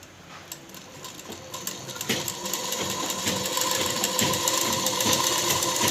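Sewing machine stitching a lining onto a blouse, a steady fast mechanical whir with rapid needle ticking that builds slightly in loudness, running alone and close.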